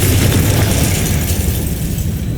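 A Confringo blasting spell detonates in Hogwarts Legacy, a loud, dense burst of booming noise that rumbles continuously for a couple of seconds with no voices over it.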